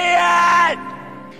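A man in the 1996 film Romeo and Juliet screams and cries in grief, one loud anguished yell that breaks off into a quieter, lingering sob.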